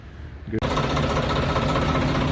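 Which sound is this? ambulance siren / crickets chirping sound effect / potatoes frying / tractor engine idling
tractor engine idling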